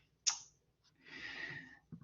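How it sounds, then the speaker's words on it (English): Typing on a keyboard over an open microphone in an online lecture: a sharp initial click followed by a broader burst of soft clattering keystrokes, faint and fairly close, with no talking. "Somebody is typing."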